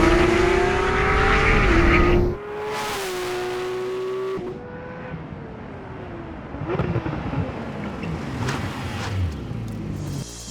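A Porsche 911 GT3 RS launches hard under launch control, its engine screaming up through quick gear changes, then the revs drop as it brakes from 100 mph with tire noise, loud and close.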